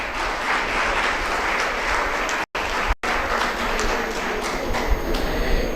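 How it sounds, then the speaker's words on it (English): An audience at a national conference applauds award winners, a dense, steady wash of clapping from many hands, briefly cut by two short dropouts. "Let us once again celebrate this proud moment with a big round of applause for all the winners"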